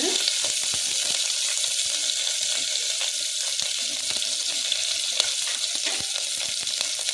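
Green chillies and onions frying in very hot oil, a steady, dense sizzle with crackles running throughout, close and alone with no talking.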